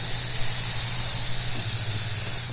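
A large spray gun sprays UV body paint in a steady, loud airy hiss lasting a couple of seconds, with a low compressor hum beneath and no voices.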